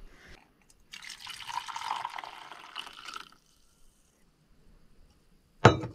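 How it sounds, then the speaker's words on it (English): Coffee poured into a cup inside a van, a soft trickling fill lasting about two seconds, followed by quiet and then a sharp clink near the end. "Pour your coffee real quick. Oh, I just spilled a little bit."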